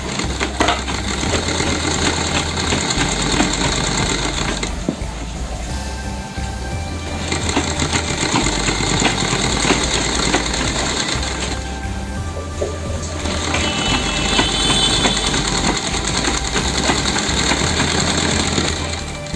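A sewing machine stitches a double piping border along a sleeve, running in steady, close, continuous bursts with two brief slowdowns, and no talking.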